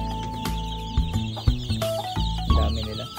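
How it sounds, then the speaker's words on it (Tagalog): A crowded brooder of newly hatched chicks, from a fourth batch, gives off a close chorus of overlapping cheeps and peeps, with irregular louder chirps rising above the busy chatter. "Ito na mga ka-egi ang ating sisiw"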